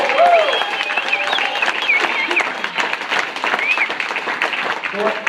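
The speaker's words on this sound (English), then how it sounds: "Nathan, Jim, Brett, Derek, Ryan, let's give them a hand" Audience applause at a club training event, a steady wash of clapping over about five seconds with whistles and cheering voices mixed in.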